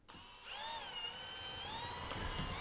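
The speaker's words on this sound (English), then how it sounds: "I'm going to start it off with a drill bit and then cut it out with a jigsaw" A power drill bit bores into a bathtub wall panel with a steady, whining tone that rises and wavers slightly for a couple of seconds, faint and close.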